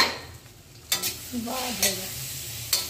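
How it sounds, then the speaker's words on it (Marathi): Green chillies fried with cumin, salt and crushed peanuts are stirred in a pan, a soft steady sizzle with a few scraping spoon strokes against the metal, close and unaccompanied by talk. "या मिरचीमध्ये मी फक्त जिरं घातलेलं आहे, मीठ घातलेलं आहे आणि आता शेंगदाण्याचं कूट घालत आहे"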